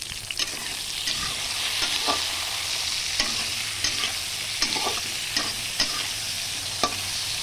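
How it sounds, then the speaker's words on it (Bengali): Nigella seeds and dried chilli tempering in hot oil for a hilsa and brinjal curry, a dense continuous sizzle with regular spoon scrapes, close and unaccompanied by speech. "কালো জিরা আর লঙ্কা ফোড়নে দেব।"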